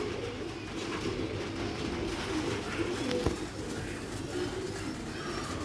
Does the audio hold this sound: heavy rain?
no